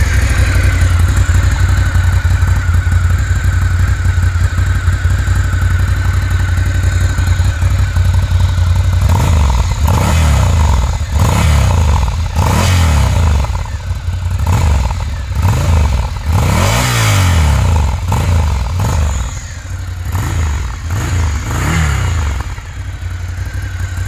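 A Ducati Scrambler with one exhaust baffle removed idles loudly, then revs repeatedly in sharp, throaty surges, up close and with no talk.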